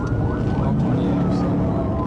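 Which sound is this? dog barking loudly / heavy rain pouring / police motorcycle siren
police motorcycle siren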